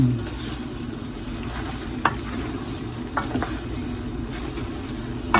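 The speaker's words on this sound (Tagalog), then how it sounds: "Tapos, atin na haluin." Filipino pancit bihon rice noodles are stirred in a frying pan over a low, steady sizzle, with occasional sharp clinks of a utensil against the pan.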